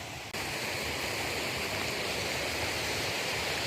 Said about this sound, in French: Regarde ces cascades qui viennent de l'étang du diable là.